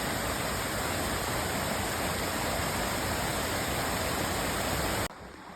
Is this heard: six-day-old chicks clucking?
no